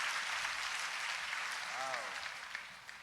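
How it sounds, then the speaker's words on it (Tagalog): A church congregation applauds during a worship service, a dense sustained wash of clapping from many hands that slowly fades, with a brief voice rising over it. "Sabi mas malakas na palakpak sa ating Panginoon."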